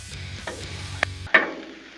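Sausage being chopped on a Blackstone griddle, with scraping and sizzling under a low hum and a few sharp metal spatula strikes near the end.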